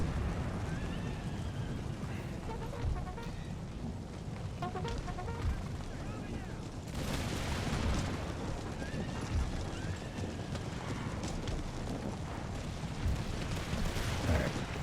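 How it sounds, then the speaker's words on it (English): Cannon canister fire and musket volleys in the Empire Total War video game, a dense continuous rumble of distant gunfire and battle din with no clear separate shots, and talk heard faintly at points. "let the canister fire get some shots in."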